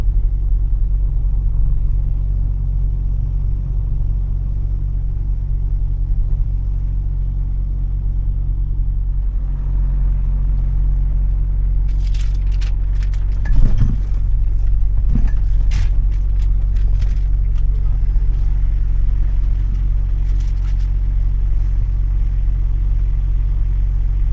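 A car pulls away from the Swiss border checkpoint toward Italy, its engine a steady low rumble from inside the cabin, with a few brief clicks and rattles partway through and no talking.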